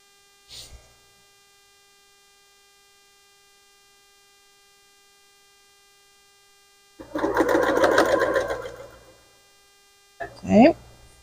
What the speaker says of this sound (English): we're going to sew these two together